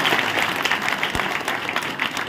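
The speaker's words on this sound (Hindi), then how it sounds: "दादाजी बन के एक बार जोरदार ताली बजाकर।" A crowd at a political event claps for a local legislator, brief dense applause of many hands at moderate distance, steady and unbroken with no voices standing out.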